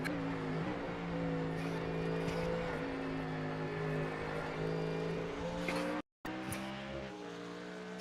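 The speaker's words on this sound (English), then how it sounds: "Those Mustangs sound good." Ford Mustang GT3 race car engines in a sim racing game drone steadily with a harmonic whine that shifts pitch, loud and continuous, briefly cutting out near the end before resuming.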